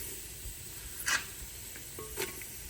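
Chopped onions drop into hot oil in a clay pot, a steady soft sizzle with brief louder hisses and stirring scrapes close by.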